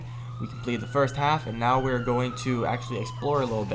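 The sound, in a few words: ambulance siren passing outside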